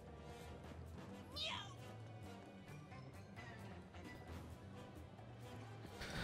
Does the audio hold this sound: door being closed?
no